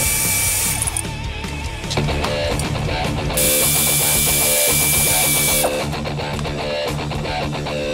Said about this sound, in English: To remove the nuts on the U-bolts, use a 9/16 inch socket.